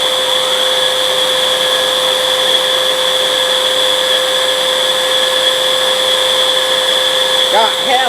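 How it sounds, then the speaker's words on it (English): A Hoover React cordless vacuum cleaner runs on suction only with the brush off, a steady close whine with a strong fixed tone and a faint chirp near the end. "Vacuum's only running by suction."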